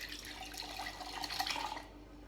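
Liquid for buttermilk pours into a grinder jar in a short, splashing trickle that swells briefly and then cuts off, faint and close.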